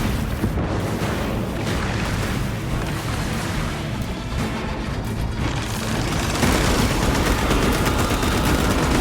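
In the Warhammer 40,000 Space Marine 2 video game, a frag grenade blast merges with heavy, continuous gunfire. The dense, loud barrage of booms and rapid shots runs throughout and grows slightly louder near the end.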